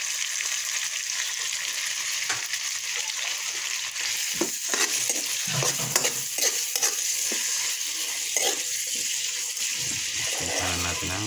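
Chicken neck pieces frying and being stirred in a pan for sotanghon guisado, with a steady loud sizzle broken by scraping strokes of the spatula throughout.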